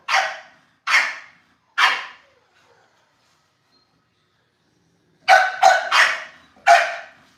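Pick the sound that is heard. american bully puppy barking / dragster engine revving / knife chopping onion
american bully puppy barking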